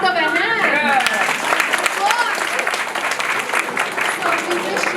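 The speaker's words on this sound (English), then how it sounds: "Give yourselves a round of applause." Audience clapping in applause at the opening of a Bensonhurst community center, a steady dense patter held for the full five seconds, loud and close, with voices mixed in over the clapping.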